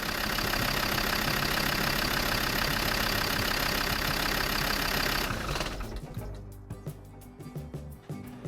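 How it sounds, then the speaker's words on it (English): A Land Rover Defender TD5 diesel engine runs and idles with a loud, steady clatter, then drops away into quieter clicks and rattles in the last few seconds. "I just start the Land Rover up just to make sure it's working."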